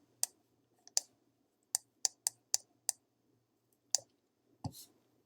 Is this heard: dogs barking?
no